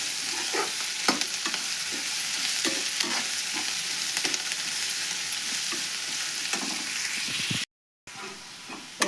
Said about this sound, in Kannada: ಈಗ ನೋಡ್ರಿ, ಇವು ಉಳ್ಳಾಗಡ್ಡೆ ಹುರಿದಾವ.